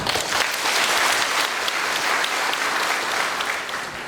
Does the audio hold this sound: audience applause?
yes